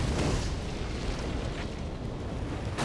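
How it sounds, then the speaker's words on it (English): Pyrotechnic explosion set off on a movie set, a broad rumbling blast that rolls on as dense low noise with buffeting wind, heard from close range without speech. "We just stood in the midst of the explosion."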